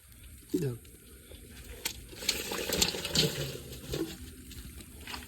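Liquid poured into a container while fish caught from a village pond are being handled; a splashing, gushing pour of a few seconds, with voices nearby.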